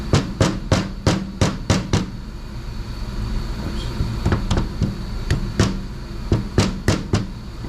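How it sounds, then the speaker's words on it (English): An engine hammer tapping a piston down into a bore during assembly of a stroked Ford FE 390 engine, bursts of sharp metallic knocks in quick runs with short pauses, close and loud, no talking. "My engine hammer here, it's as you can see, it's a lot longer on one side for tapping in a piston down into a bore"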